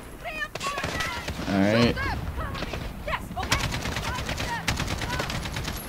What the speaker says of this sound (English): Put suppressive fire on him.